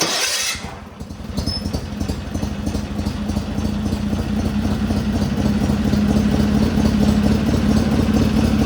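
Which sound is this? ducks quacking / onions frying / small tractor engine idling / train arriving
small tractor engine idling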